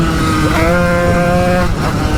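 A motorcycle engine revs up hard under acceleration, its rising tone climbing through the gears before dropping briefly at a shift, loud and close throughout.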